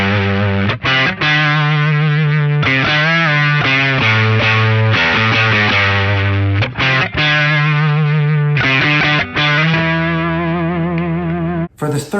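An electric guitar played through a Boss OS-2 distortion pedal, sustained chords and riffs with short gaps between phrases, loud and saturated.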